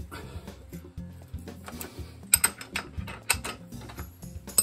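A ratchet clicks in quick bursts of strokes while tightening the rear wheel nut on a Honda CRF 300L motorcycle, close and crisp, with short pauses between runs.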